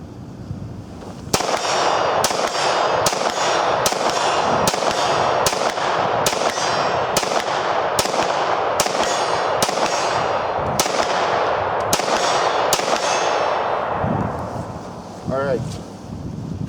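Rapid series of about eleven sharp 9mm pistol shots from a Beretta 96 with a cheap 9mm conversion and worn M9 barrel, fired outdoors in cold wind, evenly spaced and loud, ending with a pause before a brief voice.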